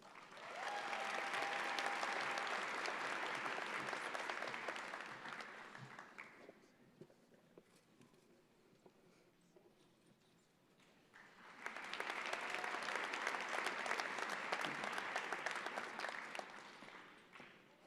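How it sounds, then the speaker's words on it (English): A graduation convocation audience claps in two sustained bursts of dense applause from a large crowd in a hall, separated by a quieter stretch where a voice speaks faintly. "please join me in giving all of the recipients a round of applause"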